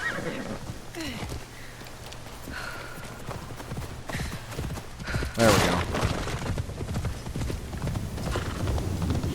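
Horse hooves clip-clop steadily in Assassin's Creed Shadows, a regular galloping rhythm with a brief whinny partway through, while a player speaks a few words over the game sound.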